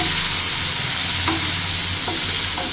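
Vegetable curry with spices stir-fried in a pan: a continuous loud sizzle with a few scraping stirs of the spoon, close up and with no talking.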